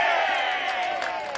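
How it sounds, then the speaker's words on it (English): Crowd at a lawn bowls pennant final between Merrylands and Cabramatta lets out a sustained, fairly loud collective call and murmur, steady through the moment with a few sharper shouts. "Heard a big call out there from the crowd as they look across the middle ring."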